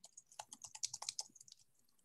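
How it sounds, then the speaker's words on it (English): Soft, quick keystrokes on a computer keyboard as a note is typed into a notes app, a dozen or so light clicks in an uneven burst that trails off, close and quiet with no talking. "start typing, give it a title"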